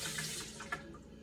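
A quarter cup of warm water pours and splashes into a sourdough starter, a soft, steady running sound that tapers off quickly.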